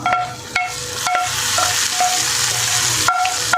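Ghee-roasted nuts and coconut pieces stirred into a pot of paruppu payasam, with a steady hiss and a few sharp spoon clinks against the vessel, no voices.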